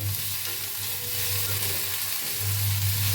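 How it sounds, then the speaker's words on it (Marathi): Whole spices and tomatoes sizzle in hot oil while being stirred in a pan for palak paneer, a steady loud frying hiss with scraping stirs running throughout. "सगळे खडे मसाले घेतले होते ते भी ह्याच्यात भाजून घेऊया, हलवून घेऊया. टाकूया टमाटर,"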